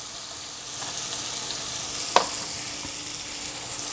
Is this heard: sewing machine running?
no